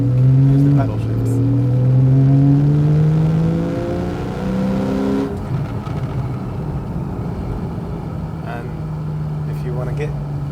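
A Porsche 911 991.1 Carrera S engine revs up through paddle-shifted gears, its pitch climbing in steps before dropping back to a steady drone, loud and close with a voice talking over it.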